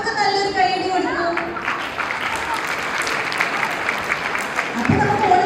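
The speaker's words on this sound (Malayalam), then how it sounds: "റിസപ്ഷനിലെ കുട്ടികളെല്ലാവരും അവർക്ക് നല്ലൊരു കൈയടി കൊടുക്കും." Kindergarten children at an Onam celebration at Rajagiri Kindergarten break into lively group clapping, a dense, fairly loud patter that carries on for several seconds.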